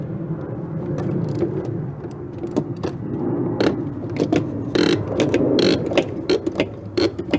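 Ratchet wrench turning a tight spark plug on a 2003 Jeep Liberty 3.7 V6 during a tune-up, giving scattered close clicks, scrapes and metallic clacks against a low background hum.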